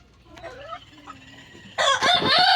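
A few soft clucks and murmurs lead into a loud, close crow from a large desi rooster, bursting in and filling the last second.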